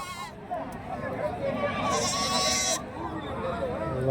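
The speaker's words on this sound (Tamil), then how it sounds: "இங்கே வந்து ஒரு ஆடு இருக்கு ரெண்டு குட்டி இருக்கு" Goats bleat at a crowded weekly goat market in Kundarapalli, Krishnagiri district, with adults and young kids present. Wavering cries rise near and loud over constant crowd murmur while someone talks close by.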